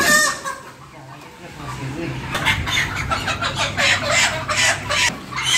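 Several chickens and roosters, two cocks and three hens, cluck and squawk close by while being weighed on a farm, a busy overlapping chorus with some talk underneath.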